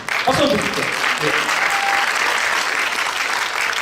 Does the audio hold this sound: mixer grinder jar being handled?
no